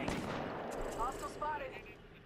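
Bursts of gunfire ring out in the video game Apex Legends, fast overlapping shots at moderate distance while players talk over them.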